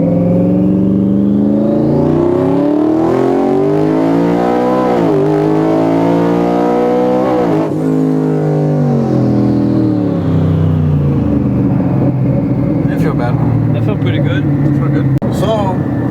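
A loud twin-turbo Ford F-150 pickup engine on a stock fuel system revs hard and climbs in pitch, easing off and building again several times, with voices talking over the roar toward the end.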